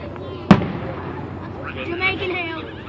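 At a Chillicothe 4th of July display, one sharp firework bang is followed by a trailing crackle and a low rumble. Faint whistling tones rise afterward as the sparks burn out overhead.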